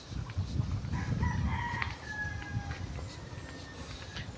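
A rooster crows in the middle distance over a bed of chickens clucking and scratching, with outdoor ambience.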